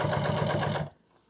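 An upholstery sewing machine with no guide or guards runs steadily while stitching the welt on a boat cushion, a loud close mechanical hum with a rapid stitching pulse that cuts off abruptly just before the end.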